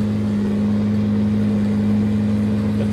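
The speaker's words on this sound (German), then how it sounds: "Der Traktor ist ein bisschen laut." A tractor engine in the Farming Simulator video game, a loud, steady droning hum with a strong constant low tone and no variation.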